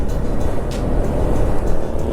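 A KTM Duke 250 motorcycle cruising on the road in sixth gear, a loud, continuous engine drone mixed with rushing wind, no talk.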